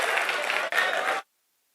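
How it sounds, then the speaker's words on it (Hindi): Brief applause from an audience at a mushaira poetry event in a university auditorium, a dense burst of many clapping hands with a tiny dip midway, cutting off abruptly into silence after about a second. "एक बार जोरदार तालियां"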